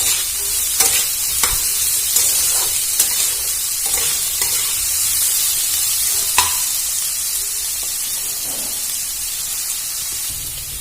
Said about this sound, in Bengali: কুচানো পেঁয়াজগুলো দিয়ে ভালো করে নাড়াচাড়া করে ভেজে নেব।